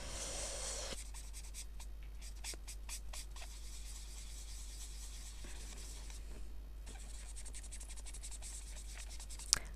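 Pen ink being drawn onto half-glossy paper on a vintage sketch card, a steady faint scratching and rubbing of the nib with intermittent short strokes, close and quiet, no talk.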